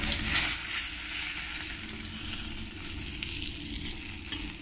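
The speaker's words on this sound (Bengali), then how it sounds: "পরের মাছগুলো আমি একইভাবে ভেজে নিয়েছি" Pieces of katla fish fry in hot oil with a steady, loud sizzle that carries on without a break and with no voices over it.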